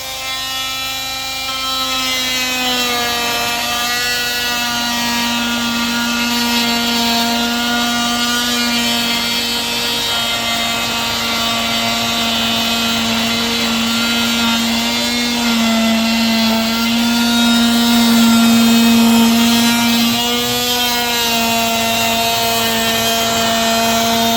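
A power tool cutting during a tiny off-grid cabin build: a loud, continuous motor drone with a steady pitch that sags slightly under load, close and sustained for the whole stretch, with no talk.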